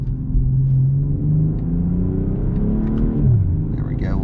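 A 2022 BMW M440i Gran Coupe engine pulls hard on a cold day, droning near and loud with a rising pitch that climbs again toward the end, alone with no talk.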